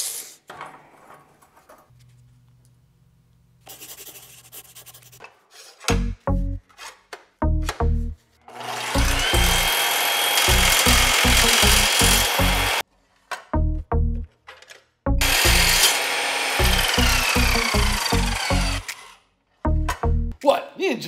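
Sander smoothing pieces of 5/16 copper rod for a mini welder third-hand project, loud abrasive grinding passes broken by bursts of rhythmic tapping and short gaps, close and alone without talk.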